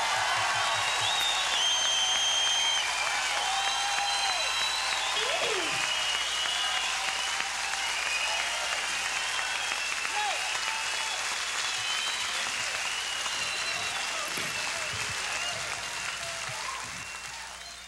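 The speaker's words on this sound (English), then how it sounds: "Please, a round of applause for the Creole band." A live concert crowd in Montreal applauds the band with loud, sustained clapping and cheering that fades gradually toward the end, with some voices audible beneath.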